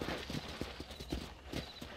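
Close, brisk hoofbeats of a ridden horse in a steady clip-clop rhythm, several strikes over two seconds against a busy background.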